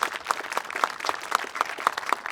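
An audience at an outdoor Diversity Walk dedication ceremony applauds, a distant, steady patter of many hands, with a rhythmic tapping running through it.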